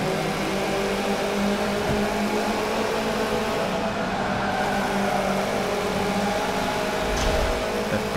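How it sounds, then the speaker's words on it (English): Subaru BRZ engine in Forza 7 echoing inside a long dark tunnel in Dubai during a race, a loud sustained steady drone with reverberant hum throughout, no talk. "Beautiful tunnel engine sound"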